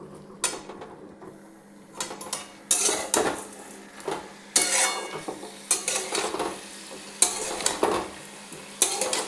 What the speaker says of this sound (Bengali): এবারে ভালো করে এটা সুন্দর করে মিশিয়ে নাড়িয়ে নিই।